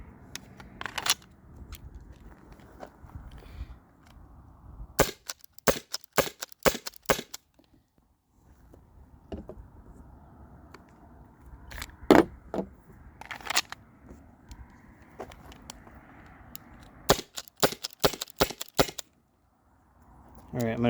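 A Byrna SD launcher on an 8 gram CO2 cartridge with a K20 Tools fast cap fires several sharp pops, some single and some in quick strings, spread across a stretch broken by quiet gaps and light handling noise.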